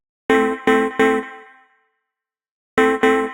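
A Chord memory synth preset plays short, bright chord stabs with a bell-like ring. Three hits come in quick succession and the last one rings out, then after a pause two more hits follow. No voices.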